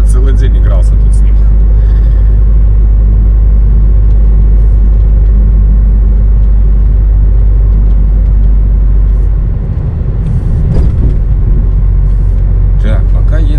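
A LAZ bus drives steadily along a road with a constant low engine rumble and road noise throughout, a brief dip and swell near the end, and some speech mixed in.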